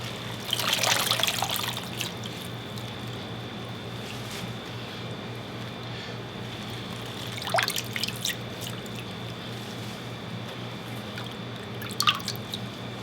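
Water drips and trickles off kale as it is lifted out of a bowl of water, with a few brief splashy bursts over a steady low hum.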